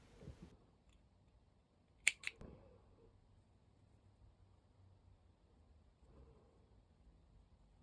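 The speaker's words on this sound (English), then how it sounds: "cut your yarn" Scissors cut yarn in a quiet room, a quick close snip of two sharp clicks near the middle, with faint handling noise before and after.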